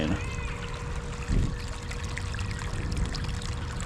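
An electric water pump pours water into a rice field while seedlings are planted, a steady splashing trickle running throughout with a brief louder gush near the middle, heard close and alone.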